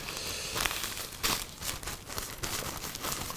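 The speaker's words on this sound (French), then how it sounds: "Je retire ce papier." Paper packaging from a MacBook Pro M1 Max crinkling and crumpling in a few rustling bursts, close by and moderately soft, with no talking.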